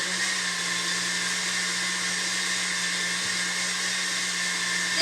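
An electric mixer whips egg whites with cream of tartar at low speed, a steady, close, loud motor whir with a constant hum that runs unbroken throughout.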